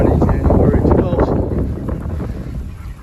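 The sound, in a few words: wind blowing outdoors, wind noise on the microphone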